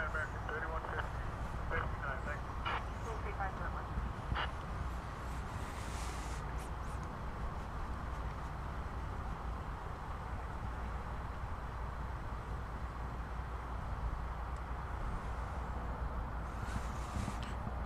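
Australian airliner taking off at night at DFW airport, a steady distant roar of jet engines heard from a spotting position under ongoing commentary.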